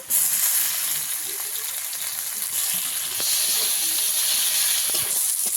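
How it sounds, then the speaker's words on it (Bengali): Chopped tomato fries with onion and garlic in a hot pan, giving a steady, close, bright sizzle and hiss with faint stirring scrapes throughout. "টমেটোটাকেও ভালো করে ভেজে নেব"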